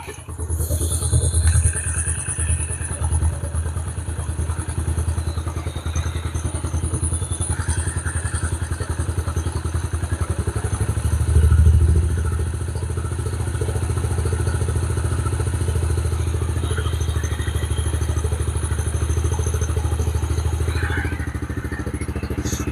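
A Yamaha TTR50 dirt bike idles steadily close by after reassembly, a continuous low putter with occasional clatter and a brief rev midway.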